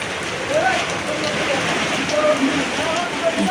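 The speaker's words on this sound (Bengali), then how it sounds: "দেখো কত জোরে জোরে বৃষ্টি হচ্ছে, দেখছো?" Heavy rain pouring steadily during a windy storm, a dense close hiss of drops on surfaces that stays even throughout, with faint voices in the background.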